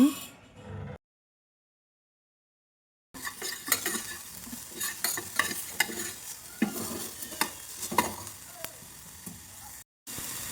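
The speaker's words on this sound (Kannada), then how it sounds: "ಚಿಕನನ್ನು ಕೂಡ ನೀಟಾಗಿ ಫ್ರೈ ಮಾಡ್ಕೊಳ್ಳೋಣ." Chicken pieces frying in a pan for a baby's chicken soup sizzle close up, broken by repeated stirring clatters and scrapes, after a short sizzle and a few seconds of silence.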